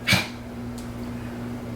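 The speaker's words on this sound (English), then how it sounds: "That's my dog pretending she's thirsty to get attention" A dog gives one short, sharp snort or sniff near the start, followed by a faint low electrical hum indoors, with no talking.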